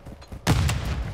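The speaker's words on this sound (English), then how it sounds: "Tossing grenade." A grenade goes off in Call of Duty MWII multiplayer as a single sudden loud boom, followed by a sustained rumbling blast tail.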